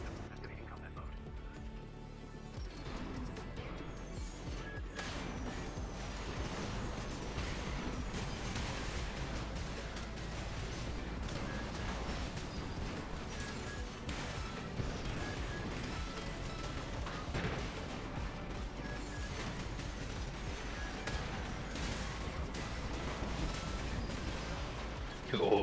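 Dense mech combat in Armored Core, with missile impacts and rapid gunfire crackling in a continuous loud barrage, explosions layered over a steady rumbling bed throughout.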